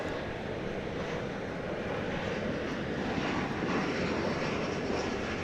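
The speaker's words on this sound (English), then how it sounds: "It's an Embraer 175 American Eagle." An Embraer 175 American Eagle airliner arriving at DFW Airport, a steady broadband jet roar that swells slightly as it approaches, heard alone with faint wind on the microphone.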